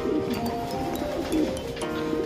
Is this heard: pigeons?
yes